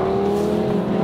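An Audi TT RS engine revs hard in a brief, loud, continuous growl with a steady raspy tone, heard alone.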